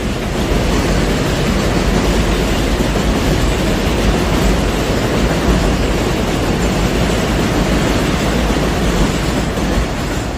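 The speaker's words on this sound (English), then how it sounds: "And that's the 1 train above me." An elevated 1 subway train in Inwood, Manhattan rumbles past overhead, a loud continuous roar of wheels and rail noise that fills the whole stretch with no talking.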